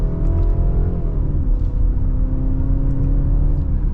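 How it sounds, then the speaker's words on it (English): A 2025 BMW X3 xDrive30 small SUV accelerates in second gear in sport mode, its engine heard from inside the cabin as a loud, steady low drone with a smooth rise in pitch and no talk. "And we are still in sport mode,"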